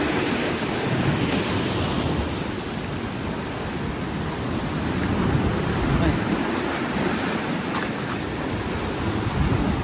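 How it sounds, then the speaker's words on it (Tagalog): Strong water current and waves churned up by Typhoon Inday at Parara, Tigbauan, a continuous loud roar of surf mixed with wind buffeting the microphone, steady throughout. "Strong sa current sa tubig."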